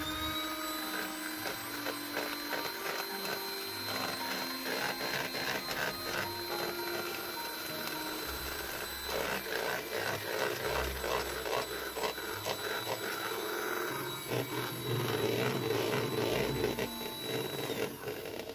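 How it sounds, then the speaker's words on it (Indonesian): An electric hand mixer beats vanilla powder with 130 grams of granulated sugar for an old-fashioned cake batter, giving a steady whirring motor drone with rattling beaters that runs throughout without talk. "ini akan aku mixer jadi satu hingga menjadi putih dan kental"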